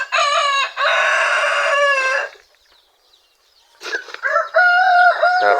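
Plymouth Rock crossed with Rhode Island chickens on a small farm: a rooster crows loudly and close in two long bursts separated by a brief quiet gap, with harmonic, strained calls and no talking.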